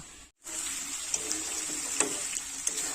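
Water pours into a pan of chicken curry as a brief, steady gushing stream with small splashes, close by and alone.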